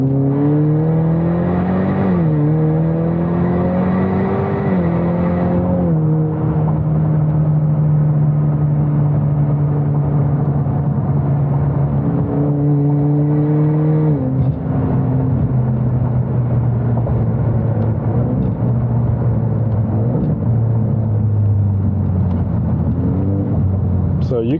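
A car with a ten-speed automatic gearbox revs loudly and steadily, its engine pitch stepping down and up again through repeated quick gear shifts, with a voice talking over it.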